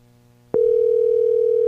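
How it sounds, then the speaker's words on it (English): A steady, loud telephone tone begins abruptly after a short, quieter hum, with one continuous pitch held while waiting for someone to pick up the line. "Come on, answer the phone."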